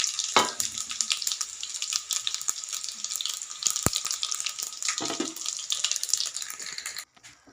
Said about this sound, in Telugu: తర్వాత తాలింపు గింజల జీలకర్ర కూడా వేసేసాను.